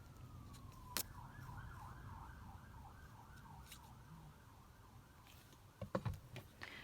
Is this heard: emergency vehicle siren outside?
yes